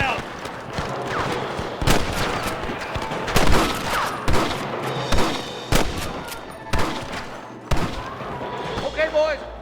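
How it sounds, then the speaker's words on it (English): Gunfire in Red Dead Redemption: sharp, loud shots crack out irregularly, a dozen or so over several seconds, amid battle noise and shouting voices. "Gun him down!"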